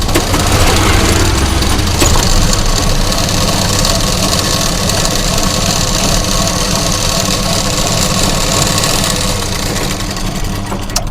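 A sewing machine runs without pause while double-stitching a lining blouse, a loud, close, continuous motor drone with rapid mechanical vibration.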